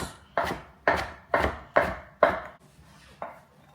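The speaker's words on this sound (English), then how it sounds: "Coarsely chopped, so I'm just going to roughly run my knife through this a couple times." A knife roughly chopping food on a cutting board, six fairly evenly spaced crisp thuds and then a lighter seventh, close and clear with no talking.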